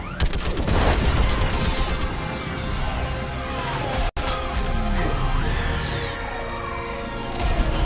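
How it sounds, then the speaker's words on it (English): An orbital strike in the Mass Effect game sets off a dense barrage of heavy explosions and rapid impacts, a loud continuous rumble of crashes with one abrupt cut partway through. "I need an orbital strike. We're clear. Fire at will."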